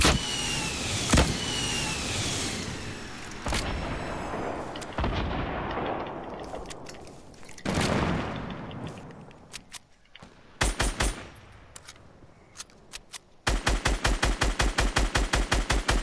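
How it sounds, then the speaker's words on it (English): Gunfire in a Fortnite firefight out in an open field: scattered single shots and bursts through the first half, then a sharp volley and a long, loud rapid-fire run of evenly spaced shots at the end. "I think one more is firing at me now, too."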